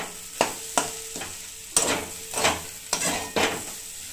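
Semolina (suji) cooking in a pan on a gas stove while being stirred, with about seven rhythmic scraping strokes over a soft, steady sizzle, heard close up and alone.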